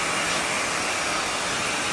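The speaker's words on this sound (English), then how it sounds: "I'm going to keep the hair dryer moving" A hair dryer blows steadily and loudly at close range during a short bob haircut, a constant airy roar that stays level throughout with no speech.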